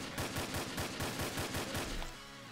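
Rapid, evenly spaced gunfire from Uzis and pistols in the Roblox game, a loud sustained burst of about a dozen shots that stops abruptly near the end.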